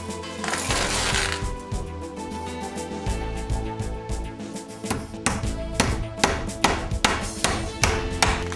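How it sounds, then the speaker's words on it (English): A hammer drives nails to fix a batten onto vertical wall battens, a series of sharp, rhythmic knocks growing quicker and more regular, over a bed of background music. "air tightness is ensured by nailing a batten to the vertical battens"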